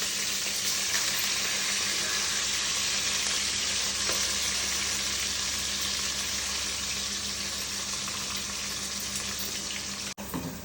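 Green chilli paste fries in oil in a pan while cooking a stuffed brinjal curry, producing a loud, continuous dense sizzle that holds steady for about ten seconds, with no voices.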